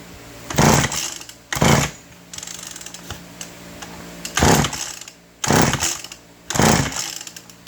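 A MAC 130 chainsaw being pulled over and sputtering, five loud separate bursts about a second apart, each a short harsh engine rasp, with quieter gaps between.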